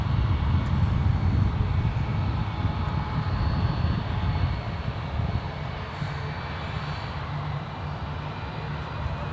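An American Airlines airliner takes off from runway 1 left at San Francisco International Airport, its engines a steady, loud broadband roar that holds for several seconds and eases off slightly toward the end.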